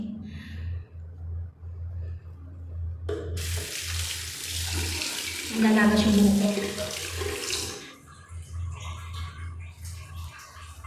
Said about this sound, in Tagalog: Sobrang init na ng tubig.